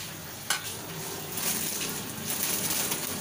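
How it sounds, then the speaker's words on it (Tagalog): Pansit noodles go into a pot of boiling water, bringing a sudden splash followed by steady, bubbling, sizzling hiss that swells slightly as they settle in. "Lalagay na natin ang pansit."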